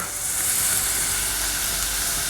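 Onions stewing in a pan give off a steady, close sizzle with a bright hissing texture, constant and even throughout, with no voices.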